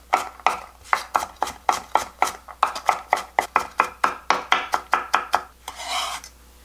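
A knife coarsely minces garlic on a cutting board, around twenty quick even strokes in a steady rhythm, close by, ending with a scraping sweep.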